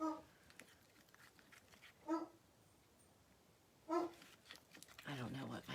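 A dog whimpers in short, high-pitched whines, a few separate cries spaced out over soft background noise, faint and close by.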